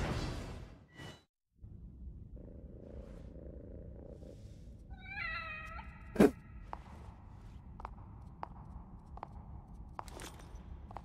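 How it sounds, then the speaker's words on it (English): A cat in the horror game The Evil Within gives a few soft meows and purring amid a quiet, dark ambience with scattered footsteps and a sharp knock partway through. "Nice cat."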